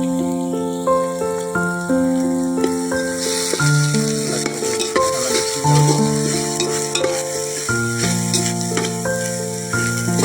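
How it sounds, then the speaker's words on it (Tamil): Onions sizzle in a pan with grated coconut, a hissing fry sound kept mostly under loud background music with sustained tonal notes. "வெங்காயம் நல்லா வதங்கி வந்துட்டீங்க. அது கூட தேங்காய் துருவலை சேர்த்திக்கிறோம்."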